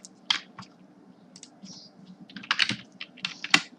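Rapid, irregular keystroke clicks on a computer keyboard, close and crisp, coming in uneven bursts with short pauses as a username is typed in.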